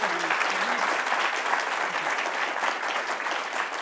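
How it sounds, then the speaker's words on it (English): Steady audience applause for a conference panel fills the room, dense and continuous from start to finish with no one speaking over it. "Big round of applause, please, for our amazing panel."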